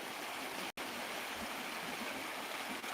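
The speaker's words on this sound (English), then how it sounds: "And that sound of the running water," A woodland stream runs continuously with a steady, soft rushing and gurgle, fairly faint and unbroken apart from one very brief dropout.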